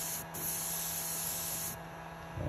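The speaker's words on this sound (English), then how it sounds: "I'm just giving a quick spray of this Pledge Revive floor gloss and hitting the baits." Pledge Revive floor gloss sprays from an aerosol can onto fishing lures in one steady, quiet hiss lasting about two seconds, heard close and alone.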